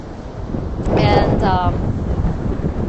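Strong wind gusts buffet the microphone outdoors at sunset, a loud rumbling roar that swells in the middle, while a voice speaks briefly under it.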